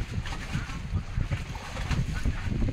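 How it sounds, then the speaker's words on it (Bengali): A boat engine rumbles steadily on the water at a river ferry crossing, with wind buffeting the microphone and a low, continuous throb under the noise. "অন্য বোট আসছে"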